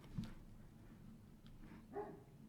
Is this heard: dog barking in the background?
yes